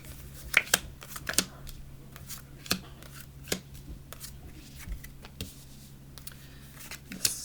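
Tarot cards being shuffled by hand: a series of soft, crisp riffling clicks and snaps at an irregular pace, close and fairly quiet over a low steady hum.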